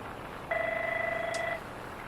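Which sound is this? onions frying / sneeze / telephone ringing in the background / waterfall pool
telephone ringing in the background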